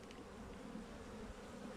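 A soft, steady buzzing of many honeybees around a hive, low and continuous with no voices.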